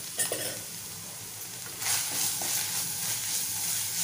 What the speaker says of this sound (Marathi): आणि छान एकजीव करून घेऊया।